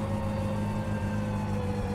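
A car engine in the game My Summer Car holds a high, steady rev, its loud drone continuous and unbroken.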